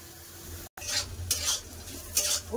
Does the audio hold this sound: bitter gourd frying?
yes